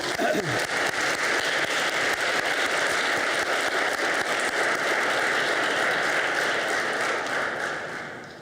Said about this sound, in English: Can we give Blake another round of applause